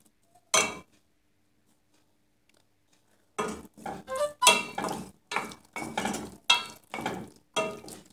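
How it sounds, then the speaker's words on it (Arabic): Chicken breast salad is stirred in a bowl with a utensil, one knock, a pause, then a steady run of scraping and clinking strokes, close and moderately loud, with no talking. "كنحركو مزيان"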